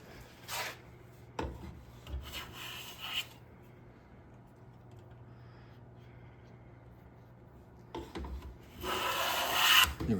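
A Bedrock hand plane is pushed along a wooden board in a few separate strokes, each a dry, rasping swish, with quiet gaps between the passes.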